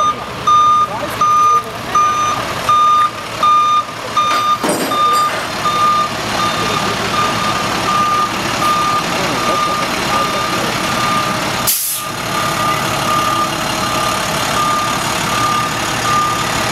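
Truck reversing with loud, evenly spaced backup beeps over a rumbling idling engine while delivering a World War 2 German Hanomag Sd. Kfz. 251/6 half-track, with one sharp clank partway through.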